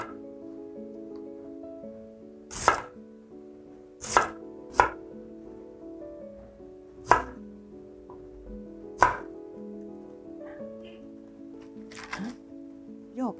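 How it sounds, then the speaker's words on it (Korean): A knife chops Korean yam on a cutting board for a Mexican-style summer chopped salad, giving about eight sharp, separate thuds at irregular intervals over a soft background hum. The cuts are close and distinct. "마를 조금 잘라서 한번 넣어볼게요"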